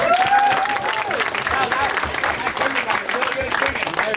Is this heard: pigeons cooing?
no